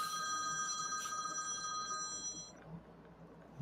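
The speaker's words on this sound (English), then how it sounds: "That was my phone ringing." A cell phone rings with bright, repeated electronic tones that stop partway through, leaving faint room noise.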